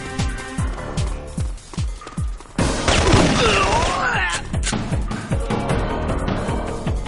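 Video game gunfire in a shooter mission, a rapid run of sharp repeated shots, then a dense burst of crashing impacts and whooshing effects, with shots continuing afterward.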